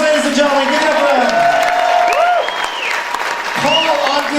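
An audience at a memorial benefit band show claps and cheers loudly and continuously, with whoops and shouted voices rising over the dense applause throughout.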